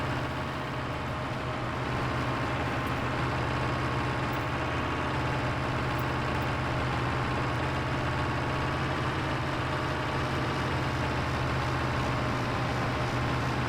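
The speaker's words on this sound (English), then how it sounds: "It's a cool tractor, I like it." Tractor engine in Farming Simulator 22, a steady low rumbling drone with a sustained hum that runs evenly for over ten seconds with no voices over it.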